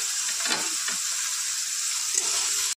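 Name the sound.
chopped onion and garlic frying in oil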